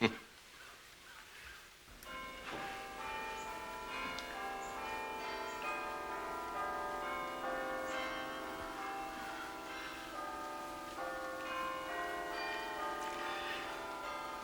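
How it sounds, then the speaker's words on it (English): Church bells peal continuously with layered ringing tones, steady and fairly loud, sounding from a short distance with no voices over them. "The bells. My husband used to love the bells. You can hear them so well from here."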